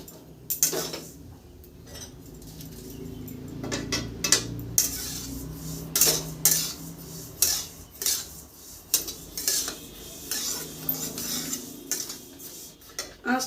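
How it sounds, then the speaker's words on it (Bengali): White sesame seeds being dry-roasted in a wok over medium-low heat for about 30 seconds, for sesame laddoos: irregular scraping and clinking strokes of a utensil against metal, close and moderately loud, with a faint rustle of seeds between strikes. "এই নিয়েছি সাদা তিল, একটু ভেজে নিব"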